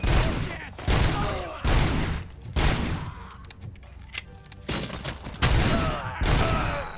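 Rapid bursts of loud gunfire from RoboCop: Rogue City, several sharp volleys spaced irregularly with short pauses, close and punchy, with a few smaller thuds between them.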